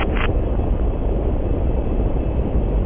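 Gemini V Titan rocket engines at ignition and liftoff in 1965, a loud, continuous low roar, with a short higher tone at the very start.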